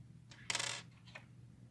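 A penny drops onto a hard surface, a short bright metallic clink followed by a smaller bounce, close and alone in a quiet room.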